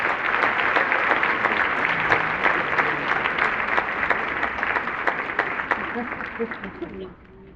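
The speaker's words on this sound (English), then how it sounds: "we want to give them a round of applause" Steady audience applause fills a fashion show event hall, sustained and fairly loud for several seconds before fading out near the end.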